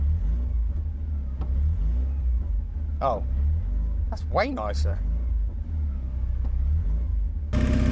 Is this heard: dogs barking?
no